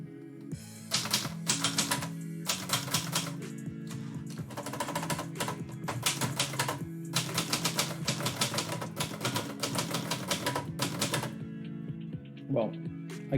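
Rapid keystrokes on a manual typewriter, sharp clacking strikes in quick irregular bursts with brief pauses, close and fairly loud, a soft carriage-like sound near the end, with a voice talking underneath.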